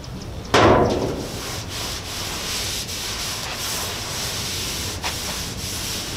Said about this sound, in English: you're gonna take your oil, soak the rag, and gently start rubbing it on